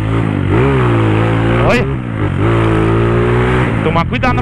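A modified Honda Today motorcycle engine revs loudly nearby, its throaty exhaust rising and falling through several sharp throttle blips, while someone speaks briefly over it.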